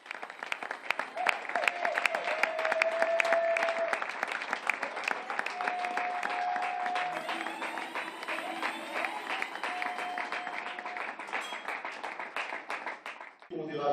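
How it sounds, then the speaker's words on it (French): At a book launch, a crowd applauds to welcome Linda Kabombo, with long, dense clapping carrying on steadily, some voices and faint whistles or cheers mixed in, before it stops abruptly near the end. "que nous puissions vraiment nous féliciter avec des applaudissements"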